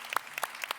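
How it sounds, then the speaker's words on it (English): A handful of scattered claps from an audience at a youth solutions talk event in Vienna, brief and fairly faint, spaced unevenly as the applause starts for the panelists. "Can we have a big round of applause for Jürgen, Paula, and Rami?"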